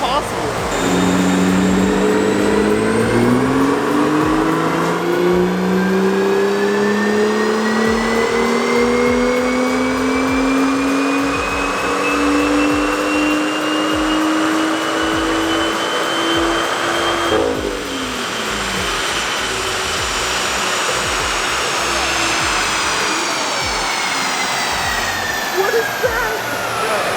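BMW M2 engine on a dyno in a long continuous wide-open pull, pitch climbing steadily for about seventeen seconds before lifting off and sustaining a second loud run, heard up close without talk.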